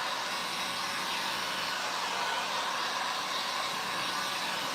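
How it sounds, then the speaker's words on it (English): A heat gun drying paint gives off a steady, even whooshing roar of blown hot air, continuous and unchanging for the whole stretch, moderately close and with no talking. "Let me hit this with the heat gun real quick."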